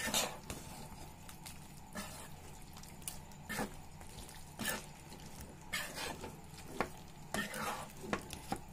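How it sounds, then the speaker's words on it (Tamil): Prawn pepper fry with lemon juice being mixed in a pan, soft intermittent scraping and clacking of a spoon at moderate distance, faint and irregular with quiet gaps between strokes. "இதை ஒரு வாட்டி நல்லா மிக்ஸ் பண்ணிக்கலாம்"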